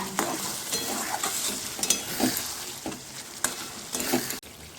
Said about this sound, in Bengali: আমি এবার যে কাজুটা বেটে রেখে দিয়েছিলাম সেই কাজু বাটাটা এখানে দিয়ে দিচ্ছি